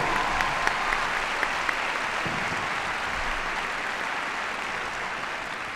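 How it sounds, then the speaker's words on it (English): A crowd at a Pony Club Mounted Games event claps for a retiring senior steward, sustained broad applause holding steady throughout, with a few sharper claps near the start. "very big round of applause"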